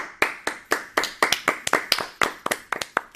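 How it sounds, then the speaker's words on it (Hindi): Audience clapping to welcome young kathak dancers at a children's cultural programme, sharp individual claps in a quick uneven rhythm over about three seconds, fairly close and clear with no talk. "तो चलिए स्वागत करते हैं जोरदार तालियों के साथ"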